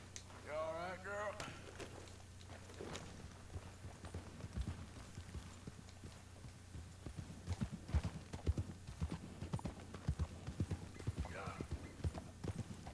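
Horse hooves clip-clop in Red Dead Redemption 2, a steady walking rhythm of soft thuds under game ambience, with a brief whinny near the start and faint voices.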